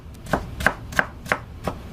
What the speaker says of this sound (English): now once you turn it on its side and cut it, it's already done half the chopping for you.